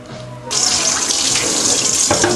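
Tap water gushes steadily into a bowl in a kitchen sink, filling it to rinse salted anchovies, a loud continuous hiss and splash starting abruptly and running without pause.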